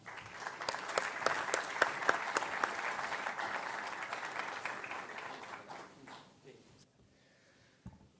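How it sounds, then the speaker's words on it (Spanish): A seminar audience at a 2018 biogas event applauds to welcome speaker Martín Pinos, dense clapping that rises, holds for several seconds, then thins and fades to near silence, ending with a single faint knock. "le damos una bienvenida y un aplauso muy fuerte a Martín Pinos"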